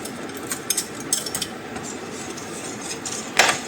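Spoon clinking in a pot as butter is stirred into a hot, thickened mixture off the heat, with scattered light metallic taps and a brief louder scrape near the end over a low steady background.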